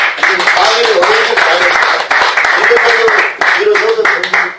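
Audience applause for a professor at a Korean forum gathering, a burst of clapping from a seated crowd lasting a few seconds, loud and close, with a voice talking over it.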